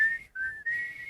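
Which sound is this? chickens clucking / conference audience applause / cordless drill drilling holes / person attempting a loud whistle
person attempting a loud whistle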